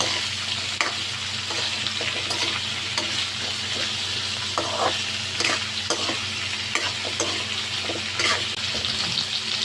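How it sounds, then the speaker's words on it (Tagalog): Beef mechado with soy sauce and tomatoes sautéing in a pan, a loud continuous sizzle with frequent scraping and stirring clicks of the utensil, close and without voices. "Gisa-gisa lang muna guys"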